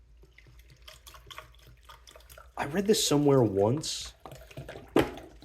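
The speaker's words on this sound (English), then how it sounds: "I'll do one with distilled water." Distilled water pours and splashes while film is rinsed during home colour development. Short gushing bursts come up close, under and between a person talking.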